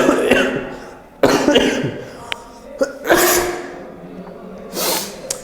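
A man teaching a class coughs repeatedly, about five harsh, close bursts in irregular succession with short pauses between them.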